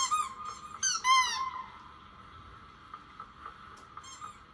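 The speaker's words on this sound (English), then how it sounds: "You're gonna listen to the squeaking noises for a little bit longer." Toy hammer squeaking on a barricade in Roblox Survive The Night: a quick run of high rubbery squeaks, a brief pause, then a second burst, with fainter squeaks trailing off.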